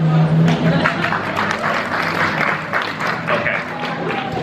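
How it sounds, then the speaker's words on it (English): A festival audience at a live comedy or magic show gives light, scattered applause, a soft patter of claps fading in and out over several seconds with the performer's voice heard over it. "thank you for the pity applause, I appreciate that"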